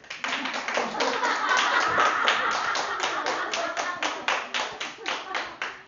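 Children clap together in a church gathering, a rhythmic run of sharp, fairly close handclaps in quick succession, slightly uneven, with faint voices underneath.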